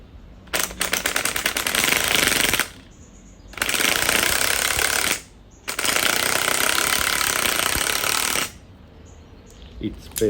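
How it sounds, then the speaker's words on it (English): A spring compressor squeezes the front coil spring of a 2008 Ford Fiesta during shock absorber replacement, giving three long, loud, rattling mechanical bursts separated by brief pauses. "Now I am going to press coil spring."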